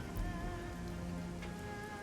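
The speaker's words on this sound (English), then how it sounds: "Law looks out through the rain." Steady rain falls without pause in the Shadowrun Hong Kong game, an even wash of drops near boats at a waterfront with no voices over it.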